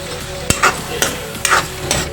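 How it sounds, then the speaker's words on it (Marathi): Kokum added to a hot cooking pan, a few sharp clattering strikes of a spoon against the pan over a soft frying hiss, close and brief with no talk. "आणि याच्यामध्येच मी कोकम टाकणार आहे"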